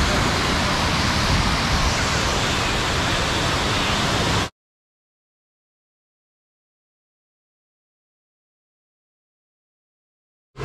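Steady roaring rush of water from a waterfall at Volcano Bay water park: loud, broadband and unbroken for about four seconds, then cut off abruptly into silence.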